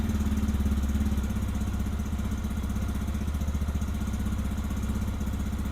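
Lifan KPX, KPM or KPV motorcycle engine idling close by, a steady pulsing low drone that settles slightly as the revs drop from a fast idle, with no talk.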